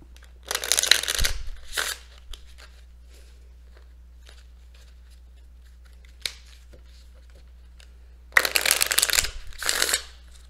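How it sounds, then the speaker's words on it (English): Tarot cards being shuffled by hand in two short riffling bursts, one early and one near the end, separated by a long quiet stretch with only faint rustles. "So let me really shuffle these cards here."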